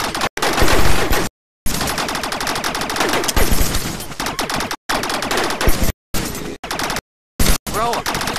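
Rapid automatic gunfire from a power weapon in the video game Rec Room, loud bursts of dense shots broken by several brief silent gaps, with faint voices mixed in.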